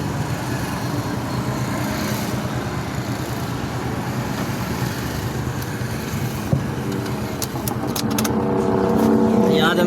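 A Suzuki Alto car drives on a road after starting, with a steady, loud engine and road roar throughout that rises slightly near the end, and no clear talk.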